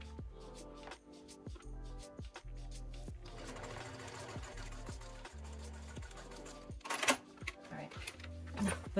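Home sewing machine stitching a quarter-inch seam on a fabric project bag, its motor whirring in steady runs broken by short pauses and a few clicks and handling knocks, with no talk.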